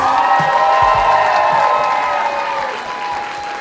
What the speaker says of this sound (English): One more round of applause for the seniors